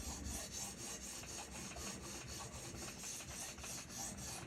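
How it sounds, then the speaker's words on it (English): A Vanadis 8 steel knife, a Kuwnu Stiffy P, is honed on a sharpening stone: steady, close back-and-forth scraping strokes in an even rhythm, with no talking. "This is going to be my one stone, one strop sharpening fix."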